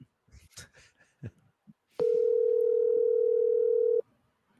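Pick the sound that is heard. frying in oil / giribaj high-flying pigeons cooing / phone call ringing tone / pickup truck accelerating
phone call ringing tone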